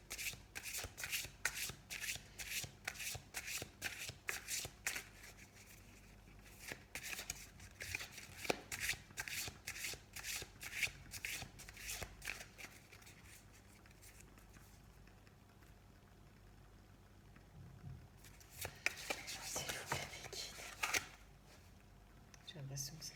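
Tarot cards are shuffled repeatedly in quick rhythmic riffles, a close, crisp patter that pauses briefly midway and then resumes with another burst.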